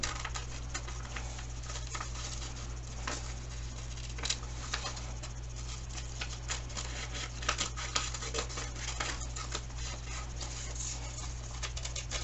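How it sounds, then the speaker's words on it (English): Scissors cutting paper pieces for a collage, a quiet continuous rustle of small snips and crinkles over a steady low hum. "Got just one more piece to cut out."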